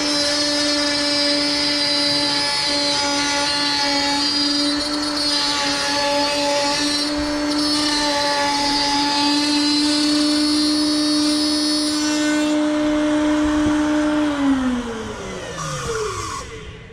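Wood router running at full speed while cutting a quarter-inch dado groove in a board, a loud, steady high-pitched whine that holds for most of the clip, then drops in pitch as it winds down.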